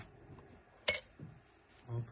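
A Browning M2 heavy machine gun (Canik M2 HB QCB) key dropping into its lever with one sharp metallic click, followed by softer handling knocks, close and isolated between pauses.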